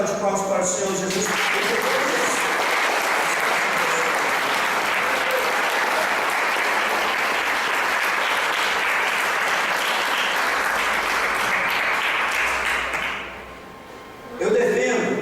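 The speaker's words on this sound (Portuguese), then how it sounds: "E é melhor salva de palmas para o Senhor Jesus." A church congregation bursts into sustained, dense applause during a worship service, loud and steady for about twelve seconds before fading, with brief voices at the start and end.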